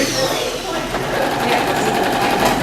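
A sewing machine double-stitches leather upholstery while reupholstering a chair, running as a loud, steady, rapid mechanical whir without a break.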